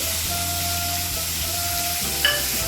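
Potatoes sizzle and fry in a pan while being stirred, a steady hiss of hot oil with a low hum beneath and a brief scrape of the utensil near the end.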